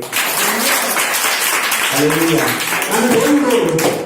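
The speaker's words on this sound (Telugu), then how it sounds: "చప్పట్లు కొట్టండి." A church congregation at Bukkapatnam claps hands in dense, sustained applause, with a voice speaking over the clapping in the second half.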